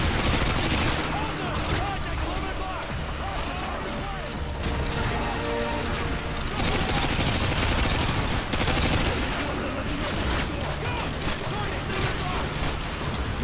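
Sustained gunfire and bursts of automatic weapons in Call of Duty Modern Warfare 2, loud and continuous across the whole stretch, with explosions mixed in and a voice speaking over the battle.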